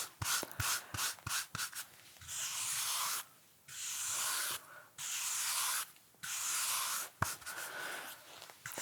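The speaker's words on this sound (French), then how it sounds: "C'est pas juste un petit coup de brosse sur vos cheveux." A hairbrush drawn through clean, soft hair at a French hair salon, close and quiet, with several quick strokes at first, then longer, even sweeps repeated with short pauses between them.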